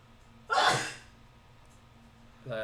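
A single close, sharp sneeze bursts out and trails off, followed by a brief vocal sound starting at the end, in a quiet indoor room.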